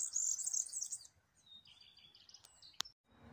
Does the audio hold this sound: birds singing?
yes